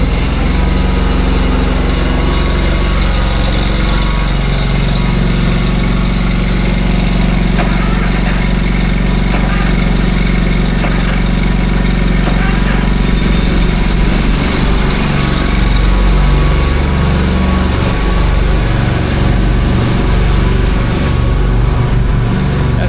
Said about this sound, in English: So let's see if this mower will start.